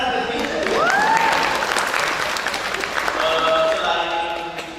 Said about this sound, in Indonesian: terima tepuk tangan ke sini